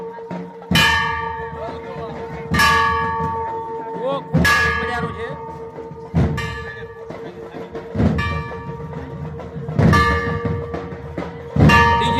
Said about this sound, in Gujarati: જુઓ ટકોરા કેમ વગાડે છે.